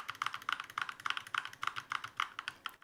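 Keys on a modded mechanical keyboard are pressed in a quick, steady run of sharp clacks, close up and clear, with no talking.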